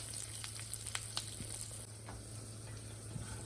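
Cashews deep-frying in oil until brown, a steady close sizzle with scattered small pops and ticks running throughout, no voices.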